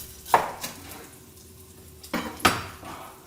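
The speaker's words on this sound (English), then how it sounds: "Then you slice the Ahi Katsu in 1-inch pieces." A knife cuts breaded, seared ahi katsu into one-inch pieces on a cutting board, giving a few distinct knocking chops spaced apart in a quiet kitchen.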